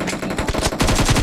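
Rapid machine gun fire in PUBG Mobile's Arena deathmatch, loud close bursts of quick repeated shots, with a slight pause before a denser volley.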